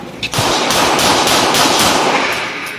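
A stainless Beretta 92FS 9mm pistol with a 5-inch barrel fired rapidly on a shooting range, a loud, close, dense run of sharp shots blurring together for over two seconds.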